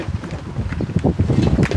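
Strong wind buffets the microphone outdoors in bursts of low rumbling gusts, loud and uneven throughout, with faint scraping or movement underneath and no talk.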